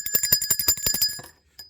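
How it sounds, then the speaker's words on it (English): A small bell rings in a rapid series of about a dozen bright, metallic strikes that fade out, followed by one lone final ding. "Let's ring the bell."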